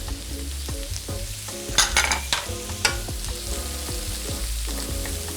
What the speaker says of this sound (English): We're gonna cook these until the vegetables are softened.